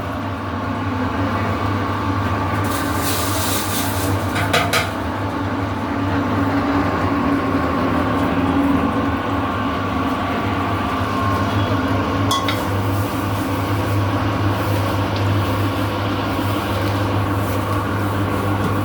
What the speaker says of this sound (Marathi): करडीचं तेल काढायचं काम चालू आहे